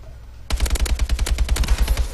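Rapid automatic gunfire in a first-person shooter game, a dense burst of sharp shots following a brief quiet moment, loud and close.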